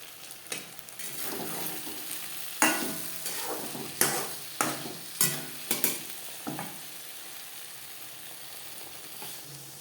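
Okra (bhindi) stirred with spices in a pan, a steady sizzle broken by several sharp scraping strokes of the spoon against the pan, close and fairly loud, with no talking.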